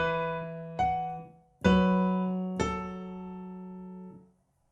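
A piano plays part of the chorus of a song, with four struck chords in an unhurried rhythm, each ringing and decaying cleanly in a quiet room with no voices.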